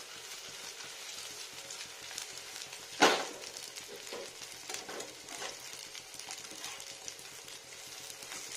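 Battered cornflour fritters frying in a pan full of oil over low heat, a steady soft sizzle and crackle with one sharper splashy burst as batter drops in, no voices.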